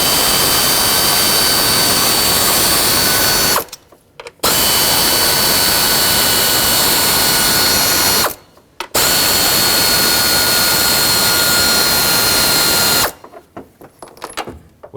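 A powered ratchet with an 8mm socket spins out ignition coil bolts on a 2009–2019 Ford Flex engine, three long loud buzzing runs of about four seconds each separated by short pauses.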